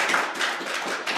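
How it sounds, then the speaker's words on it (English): Audience applause after a university presentation, a short burst of fairly close, steady clapping with no voices over it. "I think we should put some claps"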